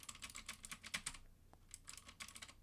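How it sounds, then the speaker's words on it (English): Computer keyboard typing in quick irregular bursts of clicks, fairly faint and close, with a short pause in the middle before the keystrokes resume. "How loud is my keyboard even?"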